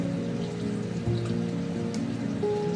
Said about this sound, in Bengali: এবার আমি ক্যাপসিকামগুলোকে ভেজে নেব। হালকা আঁচে ক্যাপসিকামগুলোকে ভেজে নিতে হবে।